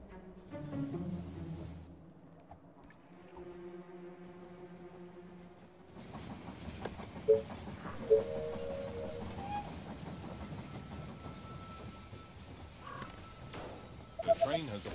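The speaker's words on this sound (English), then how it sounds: "The train has arrived at the station." Train arriving at the station in the strategy game They Are Billions, a rolling rail clatter with clicks and rattles following an earlier stretch of tones and voice, moderately loud.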